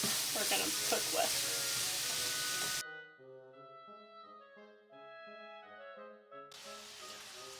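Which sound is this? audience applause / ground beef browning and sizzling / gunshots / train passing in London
ground beef browning and sizzling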